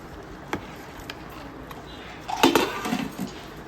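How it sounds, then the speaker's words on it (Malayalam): A spoon clinks against a pot while chicken biryani masala is stirred for a wedding-style fried chicken biryani: a few light taps, then a short cluster of louder scraping clatter near the end, with no talk. "നമുക്കൊന്ന് ഇളക്കി കൊടുക്കാം"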